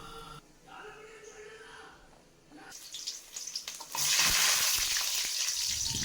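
Garlic cloves dropped into hot sesame oil with popped mustard seeds break into a loud, close sizzle that swells to a bright crackling hiss, following quieter kitchen sounds and a voice.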